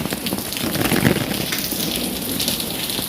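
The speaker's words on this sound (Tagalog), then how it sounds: "Maulan." Steady rain falling on a street in Seville, Spain, a dense continuous patter of drops on pavement, close and fairly loud, no talking.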